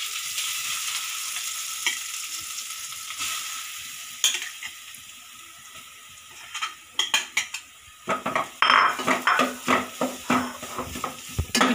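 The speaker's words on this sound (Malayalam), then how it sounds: "ഇനി നമുക്ക് ഇതിലേക്ക് അരപ്പ് ചേർത്ത് കൊടുക്കാം." Ground coconut paste added to a pan of tempered mustard seeds and curry leaves, frying with a gentle sizzle that gives way to repeated close scraping and clinking of a spoon stirring against the pan.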